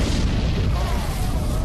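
A bomb thrown from a bank entrance explodes in the film Thunivu, giving a deep, loud, rumbling boom that fills the whole moment without a break.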